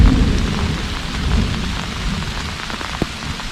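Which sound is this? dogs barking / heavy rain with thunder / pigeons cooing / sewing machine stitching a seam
heavy rain with thunder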